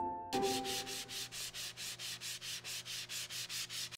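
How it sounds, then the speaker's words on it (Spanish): After a short thump, sandpaper scrapes back and forth in a steady rhythm, about a dozen even, raspy strokes close to the microphone. "Terminan de lijarlo y ahora solo falta barnizarlo"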